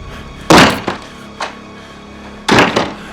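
A door in an animated horror story slams shut and is locked: a loud close thump, then a short rattle of the latch, a brief knock, and a second heavy double thud. No voices.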